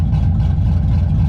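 Burnout truck running with its exhaust mufflers still fitted: a loud, steady, deep rumble of the engine idling close by, with no voices.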